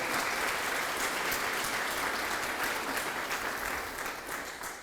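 A church congregation applauds the Lord during a sermon, a thick, sustained roar of many hands clapping together, loud and even before tapering slightly at the end.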